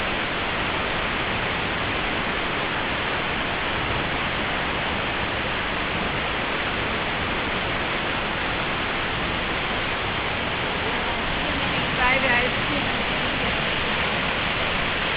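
Steady, dense rushing of falling water, a constant broadband roar without pauses, fairly close and uniform throughout.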